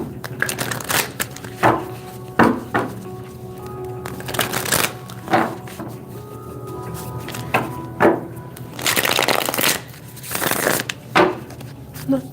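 Cards are shuffled and handled up close in a series of crisp riffles and soft slaps, irregular bursts separated by brief pauses.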